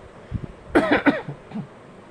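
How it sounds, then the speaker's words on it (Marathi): A few harsh coughs in quick succession from a person close by, with a quieter throaty sound trailing after. "मला खोकला येतो आहे"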